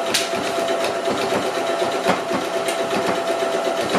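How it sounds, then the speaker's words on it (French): A sewing machine runs steadily, stitching a long straight seam along a fabric bulk bag, with a loud continuous motor whir and a rapid needle patter and no talking. "Et on coud sur toute la longueur au point droit."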